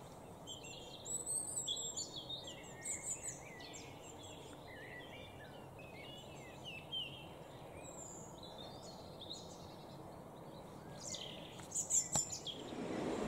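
Small birds sing and chirp around a quiet Scottish village, their bright calls spread through the whole stretch, mostly soft and a little distant, with a few louder bursts near the start and end and no talking.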